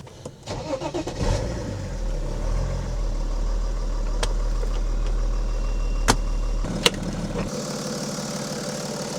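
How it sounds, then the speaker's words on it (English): A 2007 BMW 335d E92 diesel with high mileage starts and then settles into a steady, smooth idle heard close up, with a low constant engine drone and a few brief clicks. "we can see the engine runs very smoothly"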